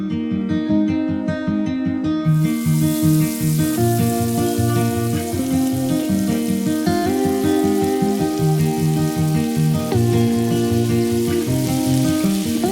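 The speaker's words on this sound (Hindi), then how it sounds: "अब हम इसे फ्राई करेंगे।" Coated onion rings deep-frying in hot oil make a steady, bright hiss that starts a couple of seconds in and continues under louder background music.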